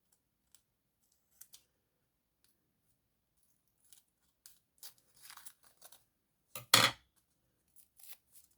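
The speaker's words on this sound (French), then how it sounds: "Je vais prendre le ciseau" Scissors snipping paper in a quiet room: scattered faint clicks and short cuts, then a cluster of quick snips and one louder, longer cut, followed by a few softer trailing snips.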